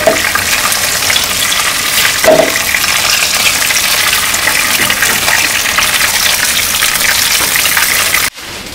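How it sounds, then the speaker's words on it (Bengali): Fish fries in oil in a village-style kitchen, giving a loud, steady, close sizzling hiss that runs unbroken for several seconds and then cuts off abruptly near the end. "মাছ ভাজা হয়ে গেছে, নামিয়ে নিই।"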